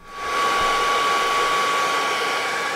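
Hair dryer blowing steadily on a new football boot being softened, a close, constant whooshing whir with a thin tonal whine, starting abruptly and running without pause.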